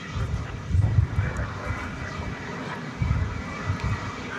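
An Airbus A380 airliner departs DFW Airport, a steady distant jet roar with low rumbling swells and some wind buffeting on the microphone, no voices.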